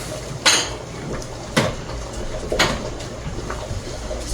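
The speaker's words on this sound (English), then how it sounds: "now me I go put the dumpling them in my pot" Dumplings clatter into a metal cooking pot for a Jamaican ackee and saltfish breakfast, giving three sharp knocks spaced about a second apart over a low kitchen hum.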